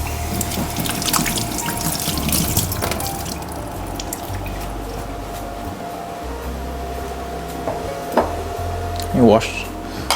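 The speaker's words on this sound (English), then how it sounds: "just gonna wash my hands" A kitchen tap runs steadily while hands are washed under it, a continuous close splashing stream with a few brief clinks, and a voice speaks over it.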